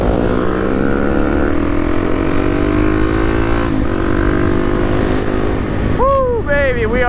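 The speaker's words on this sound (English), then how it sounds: "That Grom pulled off pretty quick." A Honda Grom motorcycle with a 178cc engine pulls away on back roads, its engine note rising steadily and staying loud and close throughout, with a short whistling chirp near the end.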